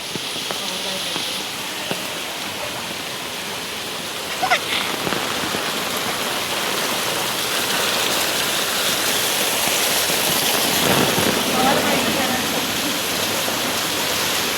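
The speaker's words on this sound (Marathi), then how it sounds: "एवढा पाऊस चाललाय की काय बोलायलाच नको" Heavy monsoon rain pours down steadily in Nalasopara, a dense, loud roar of falling water that swells slightly midway, with a few faint knocks and voices beneath it.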